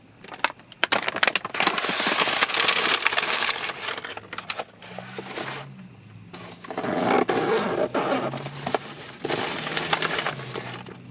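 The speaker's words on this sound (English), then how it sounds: "It's really hard to zip this up while I'm recording" A cheese cooler bag being zipped shut, with rough scraping and crinkling bursts in uneven pulls, loud and close, and no talk.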